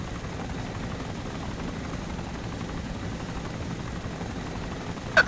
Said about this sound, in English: If anyone gets a clear shot on the chopper,